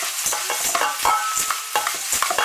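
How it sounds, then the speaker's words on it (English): Chopped mixed nuts being quickly stirred into a biscuit mixture for caramel cornflake biscuits, with a brisk run of close scraping and clattering strokes and no talking. "Alright, give it a little quick mix around."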